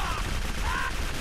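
Delgado's gun in Clive Barker's Jericho fires a dense, continuous burst during an armored demon fight, loud and close, filling the whole brief moment.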